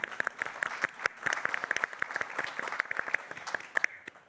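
Audience at a talk about diabetes and partner patients clapping: a small crowd's applause of dense, crisp hand claps, steady and moderately close for the full length, with no speech over it.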